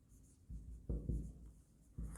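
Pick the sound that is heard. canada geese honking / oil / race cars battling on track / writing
writing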